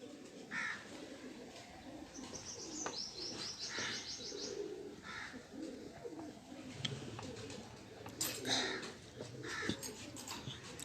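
Pigeons coo and chirp at a loft. Soft, repeated low calls mix with brief rustles of wings, heard at moderate distance over faint background noise, with little talk.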